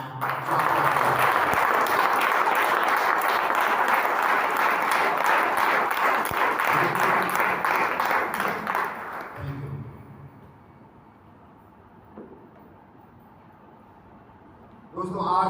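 A seminar audience gives loud, sustained applause for about nine seconds at a Sunday seminar closing. The clapping then drops away to a quieter hall with low murmuring and a brief burst at the end.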